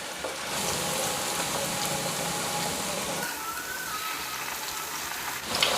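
Cauliflower 65 pieces coated in masala deep-fry in hot oil, a steady, moderately quiet bubbling sizzle that runs throughout, thinning slightly partway before a brief clatter at the end.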